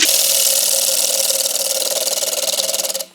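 A bowl gouge takes light, easy truing cuts on a closed-form wooden bowl spinning on a lathe, producing a loud, steady hissing shear with a faint rhythmic pulse that fades out sharply at the end.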